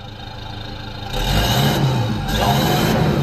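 A 2007 Toyota Fortuner V 4x4 automatic idling up close, then its engine revs hard and stays loud for the last couple of seconds, with a rushing exhaust note.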